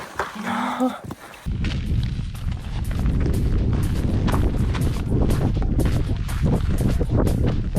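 Lava bursting at Erta Ale volcano in Ethiopia gives a steady, loud roaring rumble with repeated crackling spurts and pops, after a brief moment of windy noise at the start.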